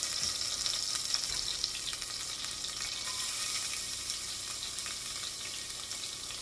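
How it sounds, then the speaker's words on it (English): Onions sizzle in a hot pan while cream of chicken soup is being made, giving a steady, close, hissing fry that stays even throughout with faint stirring, and no voices. "to that, I'm going to add my onions"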